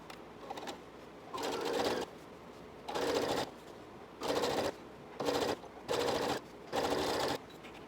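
A sewing machine stitching quarter-inch seams on a quilted pillow cover runs in six or seven short, steady bursts of rapid whirring, each about half a second to a second long, separated by brief pauses, close and clear.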